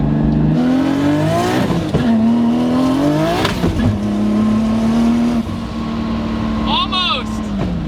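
An 800HP Nissan 240SX S14 revs hard under acceleration, its engine note climbing and falling through several pulls with brief tire spin, loud and close, while people talk over it.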